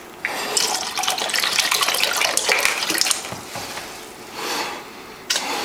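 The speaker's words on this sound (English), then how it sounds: "pour out some of it, so we have room for the fermentation" Hard cider glugging and splashing out of a bottle being partly emptied to leave headroom for fermentation, a steady liquid gush for about three seconds that eases off, then returns briefly near the end.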